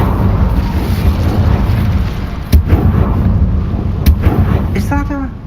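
Hogwarts Legacy Incendio fire spell cast in combat, a loud, sustained rumbling blast with a couple of sharp cracking bursts, and a voice briefly heard near the end.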